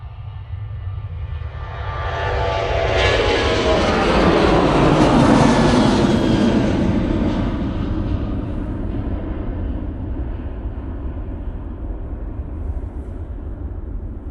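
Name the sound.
Ryanair Boeing 737-800 taking off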